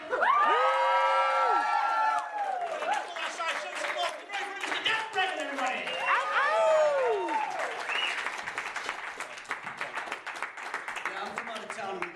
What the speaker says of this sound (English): Can we do a big cheer on three?